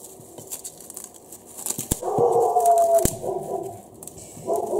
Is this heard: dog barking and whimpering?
yes